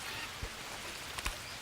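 Steady broadband rain hiss from a jungle downpour in the survival game Green Hell, with a few faint soft thuds and clicks scattered over the wash.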